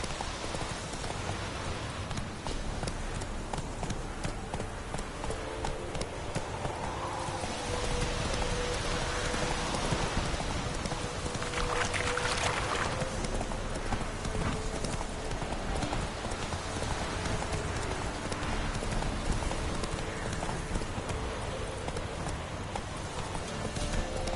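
Horse hooves clip-clop steadily and continuously in a dense rhythm, up close, over a constant rain-like hiss.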